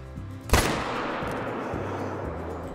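A single loud rifle shot rings out at a moose in theHunter: Call of the Wild, a sharp crack followed by a long, rumbling echo that rolls away across open ground.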